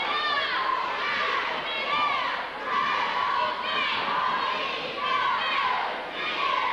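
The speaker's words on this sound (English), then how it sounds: "An appreciative crowd." At a 1983 high school basketball game, Beechwood Academy at Flint River Academy, a gym crowd sends up a steady wash of overlapping voices and shouts that swells and dips in waves, with children among them.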